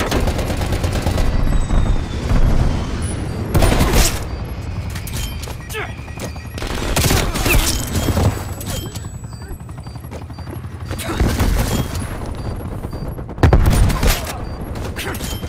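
A strafe run in Black Ops Cold War brings bursts of rapid gunfire and booming explosions, loud and repeated, with voices talking over the combat.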